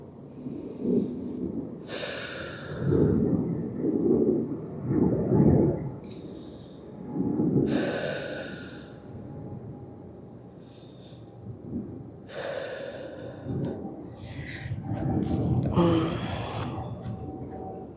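Slow, deep breaths drawn in and pushed out during a yoga stretch in an active upper-body class, long airy inhales and exhales repeating at a steady, unhurried rhythm close to the microphone.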